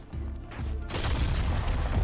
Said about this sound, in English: So I just stole this explosion sound from my game.